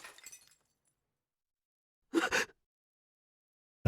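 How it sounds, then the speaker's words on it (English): Glass shatters once in the visual novel Chaos;Child, a short crisp crash of breaking pane heard alone after a stretch of silence, following a faint earlier rattle. "Was that the sound of breaking glass?"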